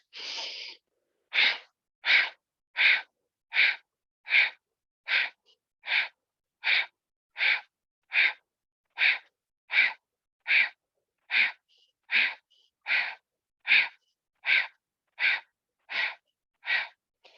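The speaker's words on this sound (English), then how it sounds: "invoke either strong breath or breath of fire" Rapid Kundalini yoga breath of fire: about twenty-five sharp, evenly spaced exhalation bursts roughly two per second, loud and close, with no talking.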